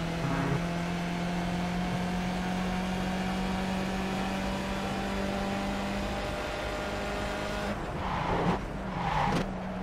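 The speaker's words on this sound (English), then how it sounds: "Terrible braking, completely locked it up." A race car in iRacing drones with a steady engine tone that drops away near the end as the brakes bite hard and the wheels lock, a brief skidding squeal, close and alone without talk.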